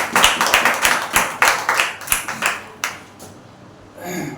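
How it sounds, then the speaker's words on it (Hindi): A congregation at a Wednesday church service claps loudly in a rhythmic burst of handclaps that slows and fades out after a few seconds. "सभी का स्वागत है और एक जोरदार ताली बजाइए परमेश्वर की।"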